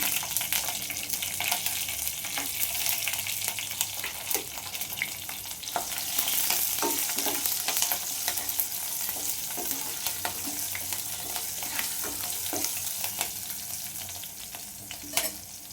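Dried red chilies and chopped green chilies sizzle and crackle in hot oil with cumin for a Kannada moong dal saaru, a steady dense frying hiss with scattered sharp pops and occasional stirring clicks, close and continuous, no talking.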